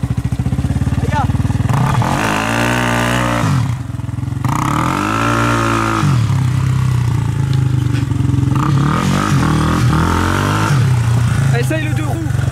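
A quad bike's engine revs hard and loud in repeated rising and falling surges as the clutch is dropped and slips, with a voice talking over the noise.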